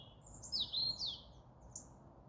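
Small birds chirp and trill at sunrise outdoors, with a bright warbling burst followed by a short single call. The calls sound moderately near over a soft, low ambient rumble.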